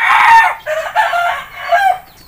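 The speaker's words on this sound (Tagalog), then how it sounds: "Marami tayong manok dito eh." A rooster crows loudly and close by, its long strained call rising and trailing off, with no voices around it.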